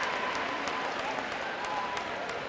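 A crowd at a Del Mar fitness competition applauds an event record, with dense, steady clapping and cheering at a moderate distance, some sharp claps standing out.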